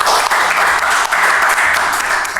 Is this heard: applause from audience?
yes